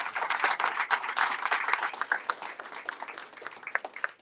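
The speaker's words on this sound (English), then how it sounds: "Let's give him a round of applause." A round of applause for a State Farm agent celebrating 50 years, many hands clapping in a dense, steady patter from a moderately sized crowd, fairly close and continuous throughout.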